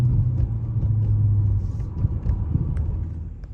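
Steady low rumble of a Ram pickup truck cruising down the road on a long road trip, heard from inside the cab as a constant engine and road drone with a brief hum early on.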